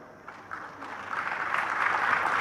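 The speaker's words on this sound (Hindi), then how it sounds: "तुम यहां ताली बजाते हो" An audience at a Jain religious discourse breaks into clapping that swells from scattered claps into fuller, steady applause over a couple of seconds.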